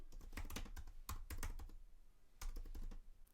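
Keystrokes on a computer keyboard as a note is typed, coming in quick uneven bursts of clicks with short pauses between, close and fairly quiet, with no speech.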